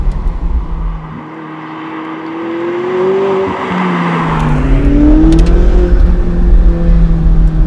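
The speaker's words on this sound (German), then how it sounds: "Vom Sound ist der McLaren schon im Stand relativ laut mit der Titan-Auspuffanlage" A 2016 McLaren 675 LT Spider's engine with titanium exhaust rumbles loudly, its pitch rising and falling as it revs, with a deep, raspy exhaust note building toward the end.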